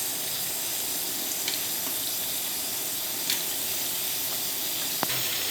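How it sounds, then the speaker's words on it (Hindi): Mutton, about 2 kg, sizzling in hot oil after being added to softened onions for mutton kunna, a steady close frying hiss with a few sharper crackles and no talk. "तो इसमें आप गोश्त डाल दें।"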